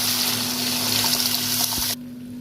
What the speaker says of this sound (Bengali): আমি মুগের ডালটা যেটা সেদ্ধ করে রেখেছিলাম ওটা ঢেলে দেবো।